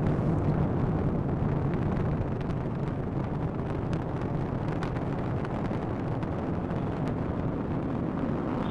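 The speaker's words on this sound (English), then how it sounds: "Liftoff of the SpaceX Falcon 9 rocket, launching Dragon to the International Space Station" SpaceX Falcon 9 rocket lifting off with a Dragon cargo capsule bound for the International Space Station, a steady, loud, broadband roar with crackling rumble that fills the whole stretch without letup and without any voices.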